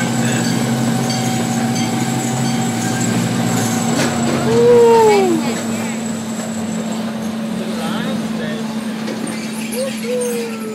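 A zoo train ride rumbles along with steady rail and wheel noise, a brief squeal and rising hum in the middle, while a voice talks over it throughout.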